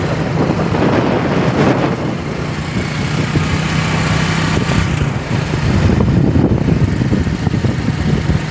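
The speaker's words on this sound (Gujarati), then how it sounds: "હવે ઠંડો પવન આવે મસ્ત।" A cool wind at the Bet Dwarka beach near Sudarshan Setu buffets the microphone in a continuous loud, low rumble with gusty swells throughout.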